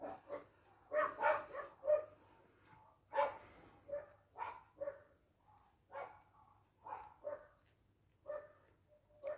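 Several dogs bark in a burst of repeated woofs and yips, fairly close, with short gaps between barks and no talk over them, heard indoors while a black-and-white twisted pendant is being made.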